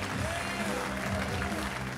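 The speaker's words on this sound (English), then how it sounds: "That deserves another round of applause." Applause from a comedy club audience for a stand-up comedian, a dense wash of clapping with crowd murmur filling the whole short stretch, heard from within the room.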